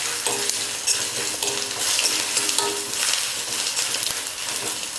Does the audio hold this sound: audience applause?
no